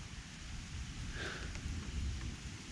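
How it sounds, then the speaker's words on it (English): Light rain sprinkles steadily outdoors, a soft continuous patter with some wind noise and no voices. "There's a bit of a sprinkle happening right now."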